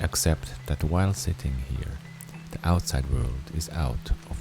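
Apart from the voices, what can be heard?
No everyday noises stand out.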